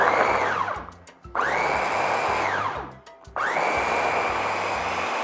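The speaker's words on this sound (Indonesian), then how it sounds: "Di blender sampai halus." An electric blender grinds turmeric spice paste with a little oil and water, a loud steady whirring motor run that cuts out briefly twice and restarts.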